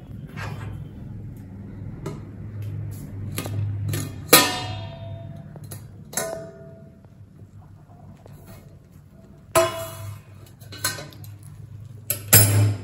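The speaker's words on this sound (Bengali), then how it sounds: "বিরিয়ানির ঢাকনাটা আমি তোমাদের সামনেই খুলছি" Lid of a chicken biryani pot being handled and lifted in a home kitchen: scattered metallic clinks, taps and scrapes, a few sharper clatters among quiet stretches over a low hum.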